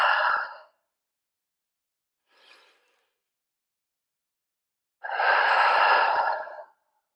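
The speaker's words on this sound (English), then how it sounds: "3 more deep breaths here." A Pilates exercise with deep, slow breaths: a heavy exhale, a faint short breath, then a long, loud inhale or sigh, separated by silence.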